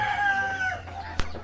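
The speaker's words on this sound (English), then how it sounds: "This is the chicken." A chicken on a farm with Muscovy ducks gives a short high crowing call, followed by a sharp click, over a steady low background hum.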